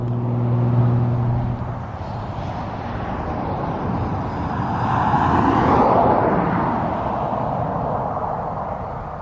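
Heavy traffic on a split four-lane highway, a steady roar of cars passing with one vehicle swelling louder as it goes by midway, continuous and fairly close.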